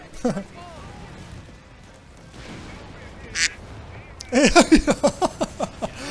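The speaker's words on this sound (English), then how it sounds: "The duck just spoke to us" Duck quacking in the World War II strategy game Company of Heroes 3, a quick run of about eight loud, close quacks near the end, after a stretch of talk and game noise.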